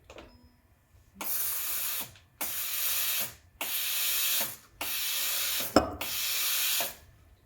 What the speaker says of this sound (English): it will purge steam through the wand just to clean any milk